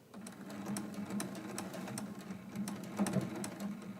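A sewing machine fitted with a zipper foot stitches quilt binding in a steady, fast whirring run, with brief pauses and a few louder mechanical clicks near the end.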